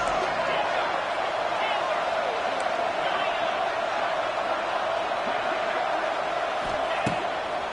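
Stadium crowd at a college football game roaring before a big third down, a steady wash of loud cheering noise that holds throughout while an announcer talks over it.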